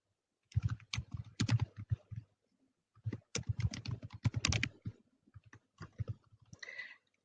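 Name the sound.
typing a web link on a computer keyboard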